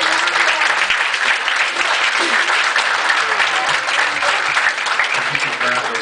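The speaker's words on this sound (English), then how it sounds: "Can you give God a hand clap?" A church congregation claps hands together during a Sunday service, loud and dense, with sustained applause filling the room and voices mixed in beneath it.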